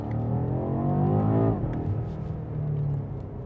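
BMW M8 Competition with all-wheel drive pulling hard in second gear, a loud, close engine roar climbing in pitch, then dropping at a shift before building again.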